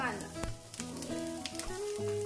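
Onion frying over a medium gas flame for matar paneer; continuous close sizzling with crackles, under a soft steady background tone.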